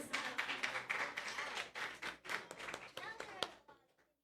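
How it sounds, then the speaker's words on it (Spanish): Church congregation clapping for the youth and children, a dense patter of hands under steady talk, fading out near the end. "Dele un aplauso a esta juventud, a estos niños."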